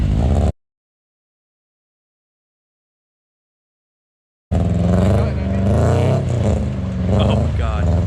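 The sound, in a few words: lowered car revving through mud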